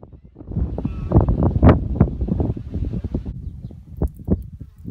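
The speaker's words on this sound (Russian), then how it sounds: "В любой момент может подняться сильный ветер," Strong wind buffets the microphone in gusty, uneven rumbles across a steppe village, close and rough with no voices.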